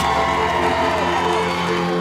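A large crowd cheers and roars continuously as an athlete, Rebecca Fuselier, approaches the finish at the CrossFit Games, a dense, loud, sustained wash of voices with no breaks.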